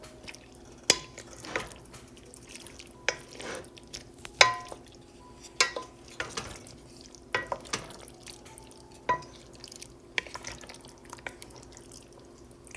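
A spoon stirs hamburger soup ingredients in a pot, giving irregular metallic clinks and knocks against the sides over a quiet background, spaced a second or so apart.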